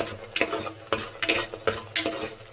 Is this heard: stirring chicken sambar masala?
yes